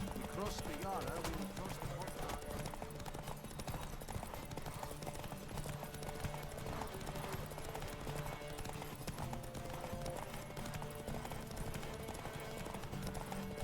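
A horse's hooves gallop steadily at a canter in the open-world game The Witcher 3: Wild Hunt, a continuous rhythmic clip-clop running under game music and ambience for the whole stretch.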